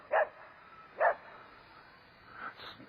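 A dog barks outdoors near water where a small Syma X5SC quadcopter is flying, giving two sharp, separate barks followed by a softer whine-like yelp, moderately distant, with no talking.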